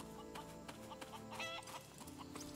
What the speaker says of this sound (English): You can hear the chickens, but you cannot see the chickens.